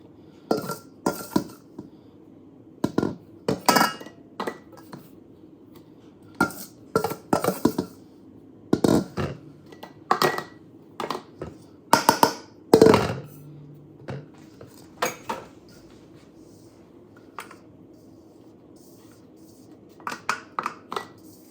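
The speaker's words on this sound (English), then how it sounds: "now we've got our biscuit mix into our jars" Biscuit mix is scooped and poured into glass jars, giving intermittent clinks and clatters of a scoop against glass in irregular clusters with pauses between, close by and without speech.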